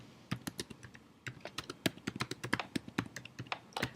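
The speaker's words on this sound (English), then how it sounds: "as I'm typing in the ad attribute fields" Typing on a computer keyboard, a close, quick and uneven run of sharp key clicks in bursts with brief pauses, heard alone without talk.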